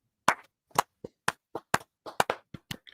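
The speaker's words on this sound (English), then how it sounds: "We have to golf clap because we don't want to pop" A soft golf clap of about a dozen light, uneven hand claps, close and crisp with short gaps between them, and no voices.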